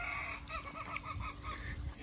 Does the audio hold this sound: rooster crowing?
yes